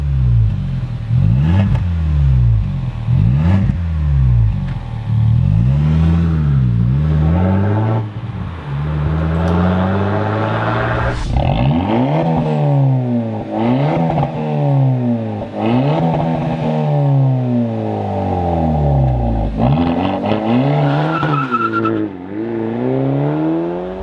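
Kia Ceed GT with a 1.6 engine and valve-controlled exhaust, revving repeatedly; a loud, close engine rises and falls in pitch in a series of swells, with pops between revs and no talk.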